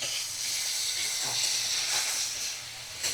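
Kashmiri red chili powder frying with ginger garlic paste in a pan, a soft continuous hiss and sizzle, close and even for a few seconds, with no voices.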